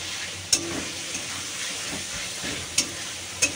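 Spice paste for minced-meat ghugni fries in a pan with a steady, low sizzling hiss. Three sharp utensil clinks stand out against it, close by and with no talking.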